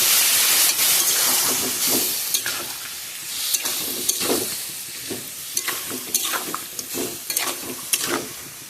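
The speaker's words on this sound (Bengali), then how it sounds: "কচুরলতিটা খুব ভালো করে সাঁতলানো হয়েছে, এর মধ্যে আমি আমার শুটকি মাছগুলো সব দিয়ে দেবো" Taro stolons (kochur loti) with dried fish (shutki) fry and sizzle steadily in a hot pan, with repeated sharp stirring scrapes and bursts of crackle running throughout, close and fairly loud, with no voices.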